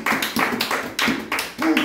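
A church congregation claps in praise of the Lord, with bursts of hand claps that rise and fall in an uneven rhythm across a large room.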